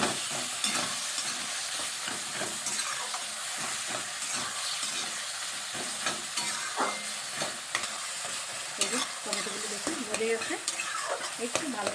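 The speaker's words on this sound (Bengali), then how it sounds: "ভালোভাবে একটু টমেটোগুলো একটু কষিয়ে দিচ্ছি যাতে করে টমেটোটা একটু গলে যাবে" Tomatoes sautéing with salt and sugar in a pan, a steady bed of sizzling and frying hiss with occasional stirring scrapes, continuous and fairly close for the whole stretch.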